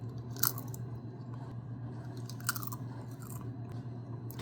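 Crunchy dehydrated apple chips seasoned with lemon and cinnamon being chewed close up, with a few sharp crunching bites spaced across the clip over a steady low background hum.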